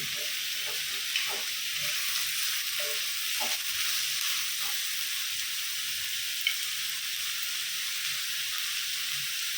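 Onions, beans, cabbage and carrot fry in a kadai for street-style paneer fried rice, giving a steady close sizzle with occasional soft clinks and scrapes of stirring throughout.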